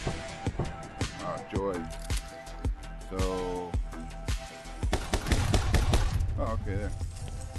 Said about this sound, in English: Time to split my fire with the pistolas.